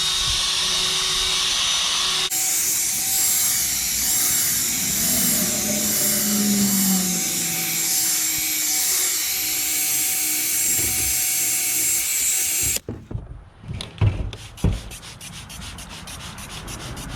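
A handheld drill fitted with a polishing pad buffs a car headlight lens, giving a steady continuous whir and rubbing for most of the stretch before stopping abruptly and leaving some scattered handling knocks.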